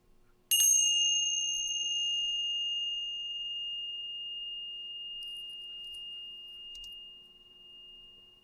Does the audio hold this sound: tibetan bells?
yes